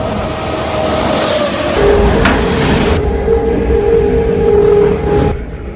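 Steady rumble and rhythmic clatter of a moving train heard from inside an empty passenger carriage at night in Bihar, with a sustained metallic whine joining partway through, loud and continuous, no voices.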